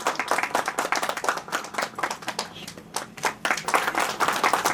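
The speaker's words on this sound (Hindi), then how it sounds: "तालियां।" Hands clapping at an official ceremony, a dense burst of close applause from a small group that swells and fades slightly over a few seconds, without talk.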